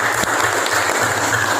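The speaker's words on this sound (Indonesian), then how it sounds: "tepuk tangan lagi buat kelompok 6" A classroom group claps for another group of students, giving a loud, dense burst of many hands clapping at once that fills the short moment without pause.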